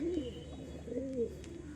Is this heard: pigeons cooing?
yes